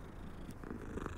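A cat purring in the Hogwarts Legacy video game, a soft steady low rumble running alone and fairly close for about a second.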